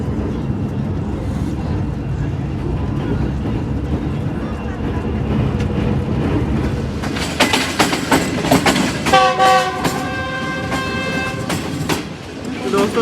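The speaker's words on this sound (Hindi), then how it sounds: "ये कुछ रफ्तार है हमारी गुजरांवाला से निकलने के बाद, तकरीबन 100+ जा रही है ट्रेन" The Green Line Express in Pakistan travels at about 100 km/h, a loud rushing rumble of wheels on rails with rhythmic clatter. A horn blares with sustained tones near the end, and someone speaks over it.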